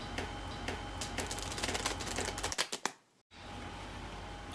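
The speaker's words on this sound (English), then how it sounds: "And we're going to shuffle them together." Playing cards riffled and shuffled together, some face up and some face down, in a quick dense flutter of crisp clicks and snaps that builds and then cuts off, followed by a quiet room.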